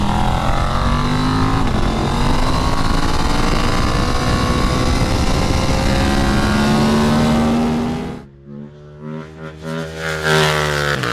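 KTM RC 8C track motorcycle with a KTM 890 parallel twin engine, a loud, close high-revving engine held steady with rising pitch, then dropping off and blipping in short revs toward the end.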